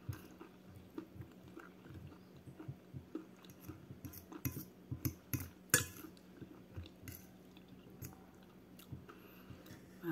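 Someone chews lunch slowly and carefully on one side because of a sore tooth, with faint, close, irregular wet chewing and biting sounds, occasional soft clinks of cutlery on a plate, and a low background hum.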